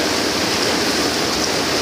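Steady rush of rainwater pouring out during a storm in Sun City, Arizona, as a dense, unbroken wash of water noise from start to finish.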